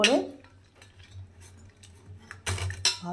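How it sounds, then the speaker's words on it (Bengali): Hot boiled raw tamarind is mashed in a pot with a utensil for a chutney, giving scattered clinks and scrapes, then a louder burst of clattering near the end. "এবার গরম গরমই, হাত তো দেওয়া যাচ্ছে না, এভাবে করে চটকে নেব"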